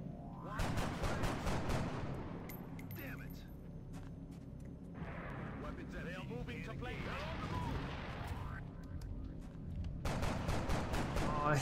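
Gunfire bursts and explosive blasts in the turn-based strategy game XCOM: Enemy Unknown with the Long War mod, during a fight in Seattle, with loud volleys at the start and end around a rumbling middle, while a player talks throughout.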